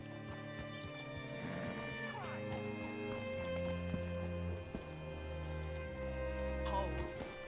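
A horse in Red Dead Redemption 2 on PS5 clip-clops at a steady walk under sustained game music, while a voice speaks over it.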